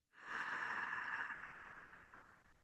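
A single long ujjayi breath from pranayama practice, a soft throaty hiss that swells quickly, holds steady, then fades out over about two seconds, close and alone.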